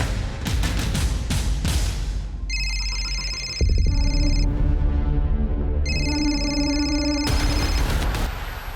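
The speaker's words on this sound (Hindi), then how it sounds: "जरा वो नंबर मिलाओ और स्पीकर पे डालो।" An outgoing phone call rings on speakerphone, several sustained electronic ring tones repeating in separate bursts after some clicking handling noise, loud and close.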